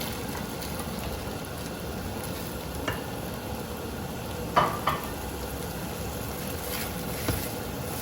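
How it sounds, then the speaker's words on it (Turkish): Potatoes and carrots sauté in a pan with a steady, even sizzle and a few sharp clinks of stirring. No one speaks. "Bunu da şöyle bir taşım kavuracağım"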